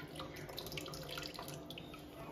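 Tap water running steadily into a pot to rinse rice in a home kitchen, a continuous close splashing and trickling stream with no talk over it.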